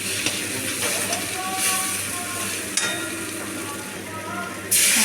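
Ginger and cumin masala frying in oil for a rohu fish curry, a dense steady sizzle and hiss running throughout with occasional soft clinks, a sharper burst of spattering at the very end.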